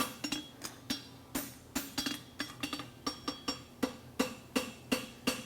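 A blacksmith's hammer rings on metal in a fairly steady rhythm, about four strikes a second, bright and close, with brief gaps between bursts, while forging a horseshoe at a blacksmithing championship.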